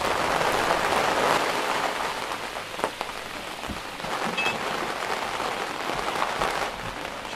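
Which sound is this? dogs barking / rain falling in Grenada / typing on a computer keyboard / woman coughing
rain falling in Grenada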